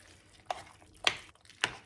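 Pasta being stirred through a blended tub of fat-free cottage cheese, giving three distinct wet, squelching sweeps spaced about half a second apart, close and fairly quiet with no talk.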